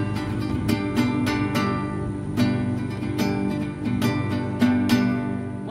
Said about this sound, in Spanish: Pero el ritmo de sique suena más o menos así.